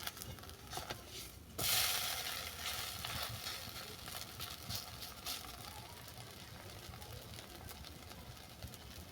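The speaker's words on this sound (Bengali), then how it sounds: "এক পিঠ ভাজা হয়ে গেছে, অপর পিঠটাকে উল্টে দিলাম।" Vegetable flatbread, sobji gola ruti made from batter, frying in a pan, giving a continuous soft sizzle that swells after a brief flipping clatter, with no talk.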